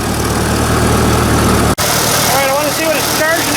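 A Ford 2N tractor engine with a slightly off fuel mixture idles steadily up close, a dense continuous drone with a brief cutout midway before it carries on.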